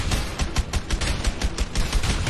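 Dense, rapid gunfire from the co-op video game A Way Out, with overlapping bursts and shots hammering almost continuously at close range and high loudness for the whole stretch.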